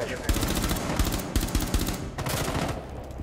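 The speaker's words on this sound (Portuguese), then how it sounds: "Dei tiro na janela" Rapid gunfire in Rainbow Six Siege rattles in dense, loud bursts throughout, with brief gaps between volleys of automatic shots.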